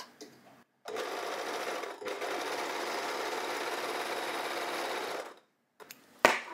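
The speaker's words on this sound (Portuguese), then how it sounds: "Eu vou passar no overlock, pra ser mais fácil de fazer a bainha, que eu vou fazer de dobra de 5 milímetros." Overlock sewing machine stitching the hem of a blouse, a fast steady mechanical whir running for about four and a half seconds, with brief quiet handling noises before and after.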